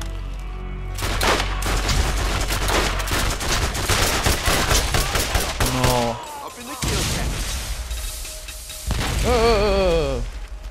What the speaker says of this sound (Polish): Mniej obrażeń, ale dużo szybciej strzela i celniej.